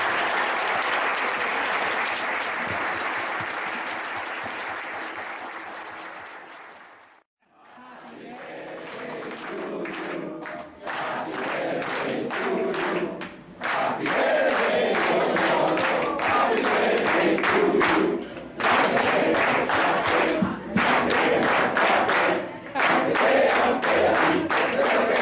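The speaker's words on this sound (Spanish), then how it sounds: "les pido que por favor les aplaudan aquí a las estrellas" A large audience applauding loudly and continuously, with a brief dip before the clapping swells again and carries on, with occasional cheers.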